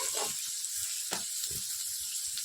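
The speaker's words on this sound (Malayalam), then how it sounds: "അപ്പോൾ അടുപ്പത്താണ് നമ്മുടെ സബോള പച്ചമുളകൊക്കെ വെളിച്ചെണ്ണയിൽ വഴറ്റിയത്" Onions and green chilies sauté in coconut oil on a stove, giving a steady, close sizzling hiss with a few soft low bumps and no talking.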